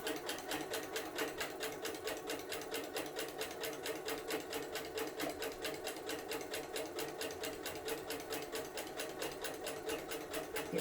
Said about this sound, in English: So I'm going to sew blocks 1 and 2 together. Do a little back stitch.